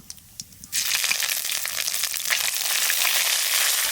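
Ginger paste hits hot oil with bay leaf and cumin for a Bengali silver fish curry, bursting into a loud, steady sizzle after a few soft taps, continuing close and unbroken.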